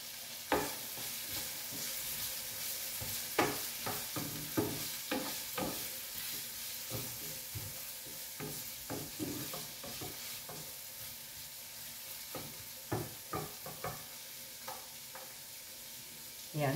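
Cucumber and egg sauté in a pan with little oil, a soft ongoing sizzle broken by frequent scraping and tapping of the spatula as the mix is stirred. The sound is close and fairly quiet, with no talk.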